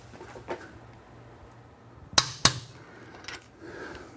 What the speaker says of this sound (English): All right, let's torque these back bolts.